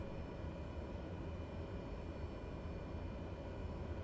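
Cessna light aircraft engine running at high power for takeoff: a steady, loud broadband drone with a low throbbing rumble, unbroken throughout, heard from inside the cabin with no talking.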